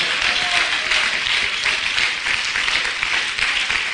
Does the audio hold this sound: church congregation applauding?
yes